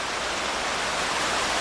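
Water rushes steadily through a fish ladder at a dam on the Delaware Canal, a constant close broadband roar with no breaks.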